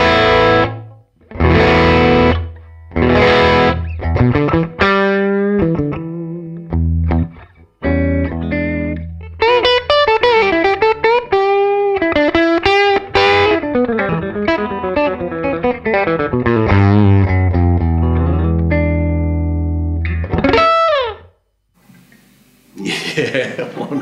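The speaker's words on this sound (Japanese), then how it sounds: "ご存知のようにマスターボリュームがないので大きくならないと歪みませんが" An electric guitar played through a Suhr Hombre amp with no master volume, turned up until it breaks into distortion, gives loud bluesy single-note lines and bends with a few pauses and a brief quiet gap near the end.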